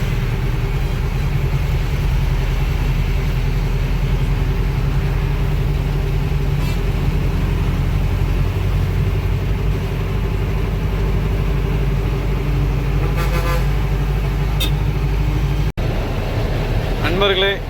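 Heavy road traffic heard from a truck cab near Karur, a loud, constant engine drone and rumble with vehicles passing close by, a few horn-like tones toward the end.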